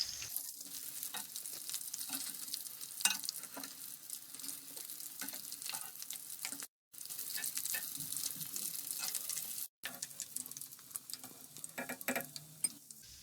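Bread and potato donuts deep-fry in hot oil with a faint, steady crackling bubble, broken by two brief silent gaps and light scattered taps.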